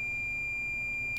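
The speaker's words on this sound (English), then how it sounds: "we go in continuity mode, we get consistent" A multimeter set to continuity mode emits one steady, high electronic tone that holds unbroken for about a second while probing a MacBook Air logic board.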